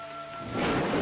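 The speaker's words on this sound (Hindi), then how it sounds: "अरे बारिश, अरे बारिश आ गई।" Rain arrives with thunder: a low rumble swells into a loud, dense wash of falling rain within about a second, with no talking.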